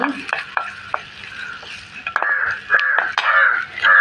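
Small miniature pan being stirred while sautéing for puffed rice upma, with scraping and light clinks of a utensil against metal over a soft sizzle, close up.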